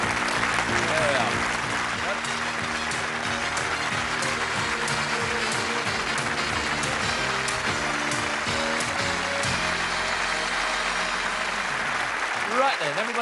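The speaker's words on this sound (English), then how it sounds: "Let's give them a nice round of applause" Long, steady applause from a television game-show studio audience fills the whole stretch, a continuous wash of many hands with voices blended underneath, easing slightly near the end.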